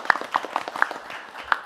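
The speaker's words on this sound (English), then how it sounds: "Applause, please." Sparse, scattered clapping from an audience at a conference in Moscow, a few distinct hand claps spread unevenly over a moment and fading quickly.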